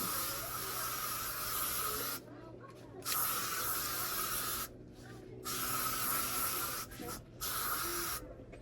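A fragrance spray hisses in long, loud bursts close by, about four sustained sprays separated by short pauses, with no talking over them.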